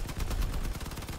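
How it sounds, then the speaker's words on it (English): Rapid automatic vehicle-weapon gunfire in the combat game Crossout, a dense burst of loud, closely spaced shots sounding steadily through a short moment with no voice over it. "Just keep shooting until the enemy's destroyed."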